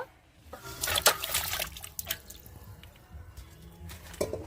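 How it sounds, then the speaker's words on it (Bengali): Water splashing and dripping over cut pieces of fresh river pangas fish as they are washed, with irregular trickles and louder splashy bursts close by, no talk. "এবার মাছটা ধুয়ে নেব"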